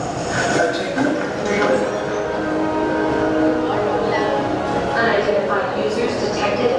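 Magic Kingdom railroad train ride heard from aboard, with a continuous rumble of railcars rolling over track, hints of a horn or whistle, and voices talking over the steady clatter.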